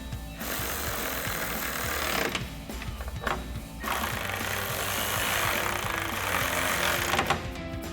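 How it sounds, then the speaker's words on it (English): Two bolts on a Z-Series full LED sequential tail light on a 2022–2024 Toyota Tundra are tightened with a 10mm socket. A loud, continuous mechanical grinding whir fills the clip, broken by two brief pauses near the middle. "Reinstall our 2 bolts. And tighten them with our 10mm socket."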